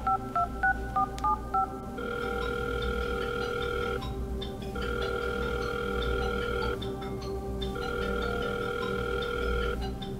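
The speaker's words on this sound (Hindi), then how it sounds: "मोबाइल बजने की आवाज सुनाई दी" Mobile phone call: a quick run of keypad dialing tones, then a repeating electronic ringback tone in long pulses with short gaps, clear and alone over a low background hum.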